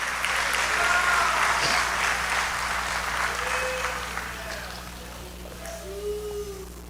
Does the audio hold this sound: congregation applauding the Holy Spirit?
yes